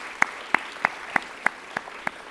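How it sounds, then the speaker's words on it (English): At an alumni awards ceremony, someone nearby claps in a slow, steady rhythm, seven sharp, evenly spaced claps about a third of a second apart, standing out clearly over a quiet hall. "But I do want to give a big round of applause to Sherry Hunter for doing such a terrific job emceeing."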